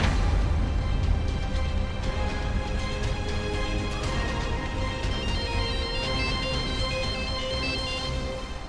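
A phone ringtone plays while a call is placed to Roshni in a TV drama episode. The bright, looping electronic melody repeats steadily, fairly loud and close, with no voices over it.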